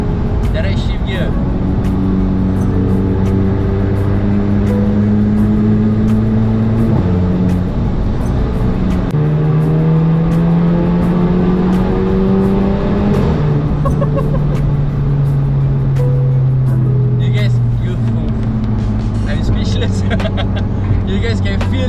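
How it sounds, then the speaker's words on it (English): A Volkswagen Scirocco 1.4 TSI with a DSG direct-shift gearbox pulls hard under acceleration, its engine drone rising steadily and then dropping abruptly at each quick gear change, loud and continuous from inside the car. "that is a DSG sound"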